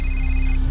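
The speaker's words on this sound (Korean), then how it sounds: "전화기가 다시 울렸습니다" A telephone rings with a loud, steady electronic tone that holds throughout the brief moment.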